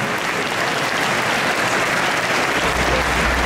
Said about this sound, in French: Je vais vous demander d'applaudir Axel dans le personnage de Blandège, s'il vo